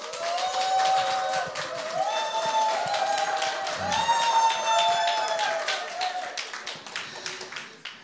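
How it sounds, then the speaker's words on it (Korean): Audience at a church gathering applauding continuously to welcome the pastor onto the stage, a steady dense patter of many hands with some background murmur, fading slightly toward the end. "우리 최상국 목사님 나오실 적에 큰 박수로 환영해 주시기 바랍니다."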